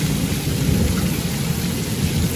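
Heavy early-morning downpour with thunder, recorded from a terrace, a dense steady roar of rain with deep rumbling underneath, loud and continuous with no voices.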